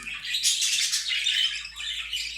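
Pet birds kept in a nesting box setup call in a dense run of high squawks and chirps, close and fairly loud, with no talk.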